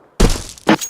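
A Counter-Strike 2 flashbang grenade goes off with a sharp, loud thunk and a bright hiss, then a second hard burst follows about half a second later, close and punchy.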